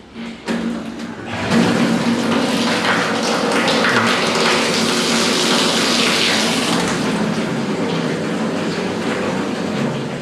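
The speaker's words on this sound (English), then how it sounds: "I'm going to start filling up the tank" Water pours from an outside tap into a 1,000 liter plastic tank, a steady loud broadband rush that starts after a brief quieter moment and runs continuously.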